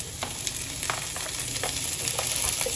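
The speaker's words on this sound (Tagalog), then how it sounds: "Saute the tomatoes." Tomatoes sauté in a pan for a vegetable soup with a constant close sizzle, and a utensil stirring and scraping at intervals.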